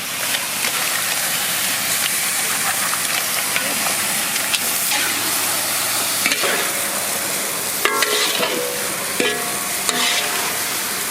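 Mutton, added with turmeric to a hot pan for a village-style Bengali potato mutton curry, fries with a loud, continuous sizzling hiss and stirring scrapes, close and without talk.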